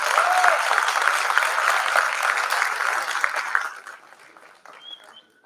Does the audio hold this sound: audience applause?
yes